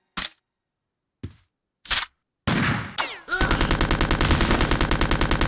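A few sharp isolated gunshots, then sustained rapid automatic gunfire with a steady rattling rhythm, loud and close, in Resident Evil: Code Veronica X.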